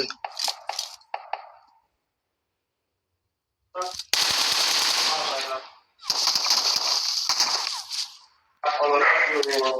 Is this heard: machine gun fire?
yes